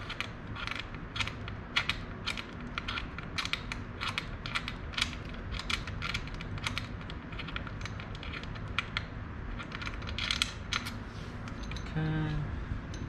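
A hand ratchet clicks steadily as it loosens the bottom bolts on a Honda CRF450 engine during a teardown. The quick, close, repetitive clicks run throughout, followed at the end by a short tonal squeak.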